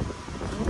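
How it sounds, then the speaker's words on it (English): Wind blows outdoors at a rural farm in The Gambia, a steady rough rumble buffeting the microphone throughout, loud and close, with some stronger gusts near the end. "it's windy out here"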